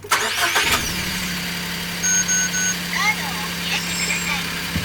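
A Suzuki Carry DA16T kei truck engine cranks and catches at the start, then settles into a steady close idle, with a few electronic beeps chiming over it.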